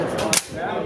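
A rifle bolt release is hit at an outdoor range with brass stuck in the channel, and the bolt slams shut in one sharp, close metallic clack over a steady background hiss.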